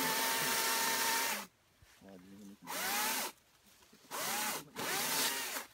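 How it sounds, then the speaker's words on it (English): A chainsaw cuts at a tree, with loud bursts of high revving broken by short idling drops, the engine pitch sweeping up and down with each throttle squeeze. "You didn't see me using one hand only on the chainsaw."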